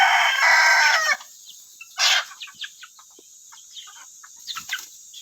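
Free-range chickens call close by: a loud, drawn-out crow opens, then a short squawk and scattered soft clucks and pecking sounds over quiet ambience.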